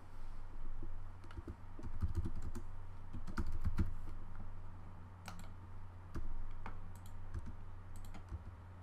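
A username is typed on a computer keyboard, close rapid key clicks in short irregular runs over a low steady hum.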